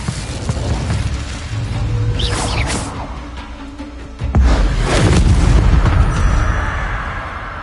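A fire spell, Incendio, cast in a wizard game, heard as loud booming bursts and whooshing blasts, one midway and a heavier rumbling eruption that carries on to the end.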